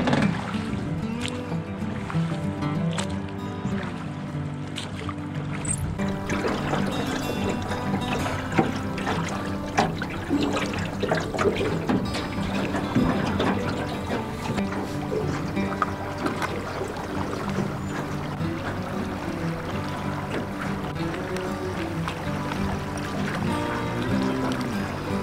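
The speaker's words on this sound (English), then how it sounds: "Got rowing to do." A boat is rowed on the Cowlitz River on a fishing trip, with a steady wash of moving water and soft splashing and creaking running continuously at low volume, with little talk.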